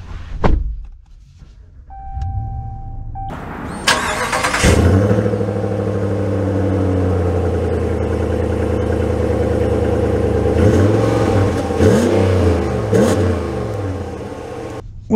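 A 2023 Ram 1500 Big Horn Night Edition pickup is heard from inside: a door thuds shut, a few soft clicks follow, then the engine starts and settles into a loud, steady low hum as the truck moves off, with faint clunks later.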